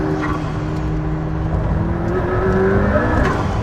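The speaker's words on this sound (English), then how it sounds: "here is just a little burst of what it feels like to slightly nail it in a McLaren P1 over a beautiful Welsh mountain road" A McLaren P1 accelerates hard on a Welsh mountain road, its engine a steady, loud, rising roar heard from inside the car, sustained throughout with no talk.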